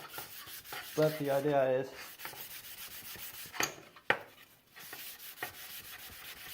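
A brush scrubs embedded rust off metal trim coated with WD-40, giving repeated short rasping strokes at close range with a few louder scrapes, while a voice speaks briefly early on.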